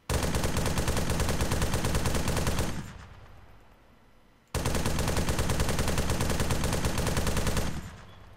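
Machine gun turret in the Arma 3 Halo mod firing two long sustained bursts, a dense loud rapid rattle that stops abruptly and trails off into echo between and after the bursts.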